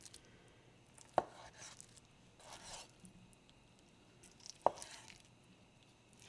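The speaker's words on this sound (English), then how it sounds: "We're gonna cut it into 1-inch cubes" A knife chops through a soft homemade mozzarella ball on a board, cutting it into cubes: three or four sharp, separate knocks spaced a few seconds apart, close and fairly quiet, with faint soft squishes between them.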